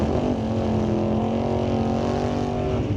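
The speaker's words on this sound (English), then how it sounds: "So keeps the burnout short." A dragster at a Mission Raceway Park drag race holds a short burnout, giving a loud, steady engine roar with a sustained drone that lasts the whole stretch and has no break.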